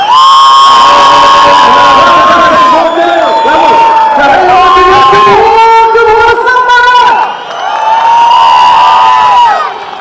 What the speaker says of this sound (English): You are amazing, like give yourself a clap, like bravo!